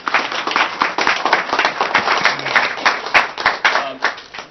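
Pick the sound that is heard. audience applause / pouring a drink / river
audience applause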